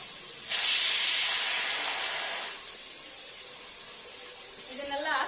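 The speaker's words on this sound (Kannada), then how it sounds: "ಇದನ್ನೆಲ್ಲ ಹಾಕಿ ಚೆನ್ನಾಗಿ ಫ್ರೈ ಮಾಡ್ಕೊಳ್ತೀನಿ" Fresh coriander and mint go into hot oil in a pan with a sudden loud, steamy sizzle that hisses strongly for about two seconds, then fades to a soft simmer before a brief clatter at the end.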